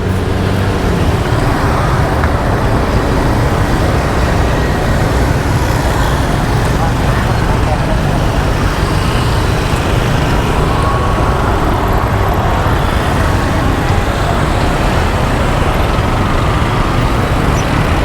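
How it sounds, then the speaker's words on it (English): Steady traffic rumble of cars and motorcycles rolling off a ferry in Cambodia, a dense, continuous drone of engines close by with no clear pauses. "Let me show you all the cars and motorcycles that come up through the ferry."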